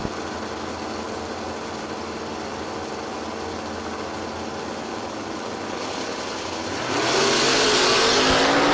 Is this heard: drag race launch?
yes